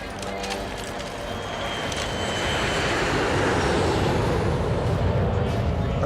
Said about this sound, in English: Plane is touching down, sir.